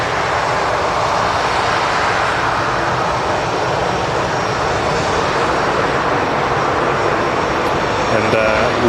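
A jet airliner at Manchester Airport produces a steady, loud, broadband engine roar throughout with no break, sustained rather than passing quickly.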